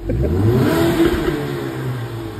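A turbocharged car engine revs hard close by, a loud rising roar that swells briefly and then settles to a throaty hum, with no talking over it.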